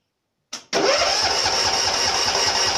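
A riding mower engine cranks briefly, then catches and runs steadily at a loud, even idle right after a new solenoid starter switch is fitted.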